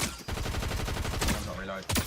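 Rapid automatic gunfire in the Fortnite video game keeps up a fast rattle of repeated shots, followed by a few louder blasts, with some voice underneath.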